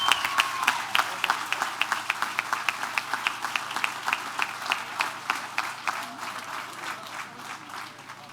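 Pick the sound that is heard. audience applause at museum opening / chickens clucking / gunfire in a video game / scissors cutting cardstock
audience applause at museum opening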